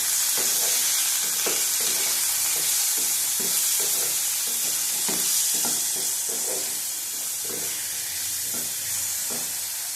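Vegetables with turmeric sauté in a pan: a steady hiss of frying with a rhythm of scraping spoon strokes repeated close by throughout, and no talking.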